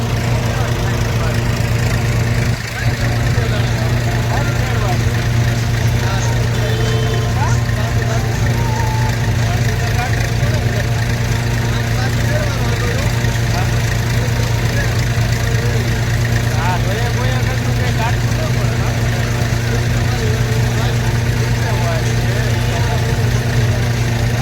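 An Eicher tractor engine idles on a village farm, giving a loud, steady low rumble that runs unbroken for the whole stretch.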